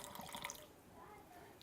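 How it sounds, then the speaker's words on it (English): Water being added to potato salad cooking in a pan: a faint, quiet splashing and trickle, with a few drips, under a soft background. "let's add a little bit of water here"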